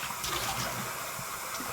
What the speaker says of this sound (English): Get some water.